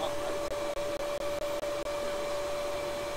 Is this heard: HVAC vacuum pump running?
yes